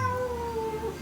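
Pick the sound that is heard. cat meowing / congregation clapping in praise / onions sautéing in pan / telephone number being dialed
cat meowing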